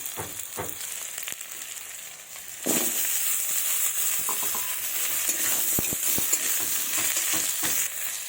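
Potatoes hitting hot oil with browned onions and black cumin in a pan, a sudden loud sizzle that jumps up partway through and keeps hissing steadily, with scraping stirs and small pops, close and alone.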